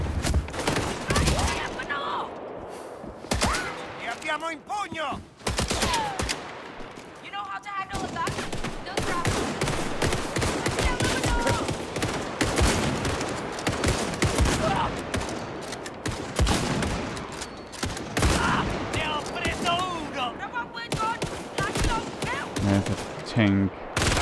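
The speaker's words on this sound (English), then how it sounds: "This gun does not want to hit." Gunfire in the video game Indiana Jones and the Great Circle, an attack on a hotel in Siam, with dense, continuous bursts of automatic and single shots, loud and close, and occasional voices over the fire.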